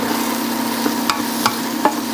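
Curry-spiced butternut squash soup ingredients sizzle steadily in a pot, a constant close frying hiss with a few faint clicks and stirs of a utensil over it.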